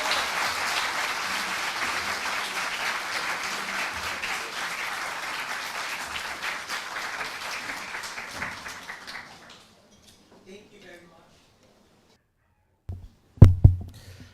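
Audience applause following a legal presentation on Philippine island territories in the West Philippine Sea: a steady roomful of clapping for about nine seconds that fades out, then a few louder isolated claps or knocks near the end.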